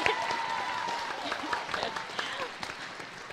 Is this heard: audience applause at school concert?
yes